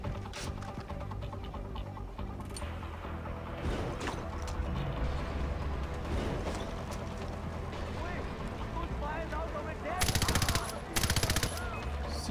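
A machine gun fires a burst in Far Cry 4 amid busy, cluttered game noise, with a voice talking over the top.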